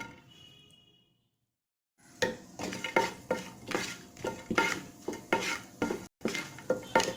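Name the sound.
raisins frying in a pan for carrot halwa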